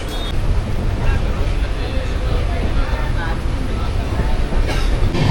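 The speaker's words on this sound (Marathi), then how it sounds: "ट्रेनमध्ये आहे आम्ही" A passenger train runs with a heavy, continuous low rumble and rattling wagons that stay loud and close from start to finish, with no clear speech over it.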